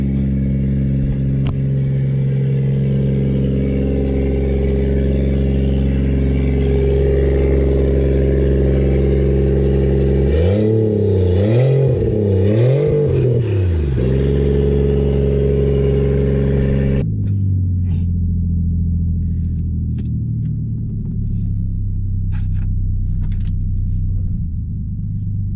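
A loud Toyota Supra engine idles with a heavy, deep rumble, then blips its throttle in a few quick revs before it settles back down to a steady idle, very close and alone.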